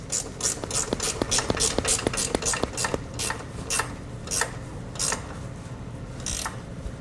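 A 10mm socket wrench tightens the small black bolts on Westin Platinum Series oval nerf bars, giving a run of quick ratcheting clicks that slows to a few spaced clicks, close and moderately loud with no talk.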